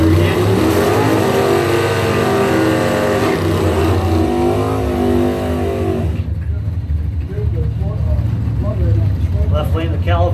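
Drag race cars roar loudly down a strip, their engines revving hard, with a sustained high-powered drone that drops off as they pull away, while an announcer talks over the noise.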